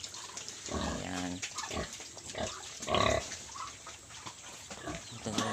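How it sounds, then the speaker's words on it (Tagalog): Native pig sow on a rural backyard farm grunting in a series of close, irregular bursts, with faint background noise between grunts. "Ito na yung isang inahin."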